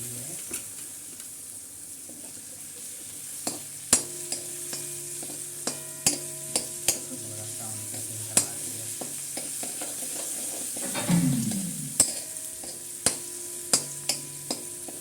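Tomatoes being stirred and fried in a pan for poha, a soft sizzle beneath repeated sharp clicks and scrapes of a spoon against the pan at irregular intervals.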